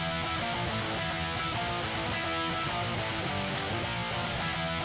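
An electric guitar run through a Kemper amp plays alone and unprocessed, a dense, sustained distorted tone with clear pitched notes ringing steadily at moderate level.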